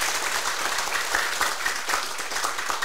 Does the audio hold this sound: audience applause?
yes